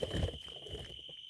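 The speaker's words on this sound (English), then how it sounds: "The crickets are too loud." A thin, steady high-pitched cricket trill runs continuously through the short stretch, with low rustling and thumps underneath.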